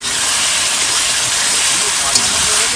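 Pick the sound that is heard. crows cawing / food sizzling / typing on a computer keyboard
food sizzling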